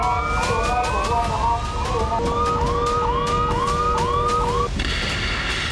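A loud wailing air raid alert siren in Israel rises and falls in repeated sweeps, then shifts to a higher steady tone near the end, with no voices.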